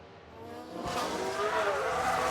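A McLaren Formula 1 car spinning out in F1 Manager 2022, engine whine rising sharply with squealing tires about a second in, the pitch sweeping as the car slides, alone and fairly close.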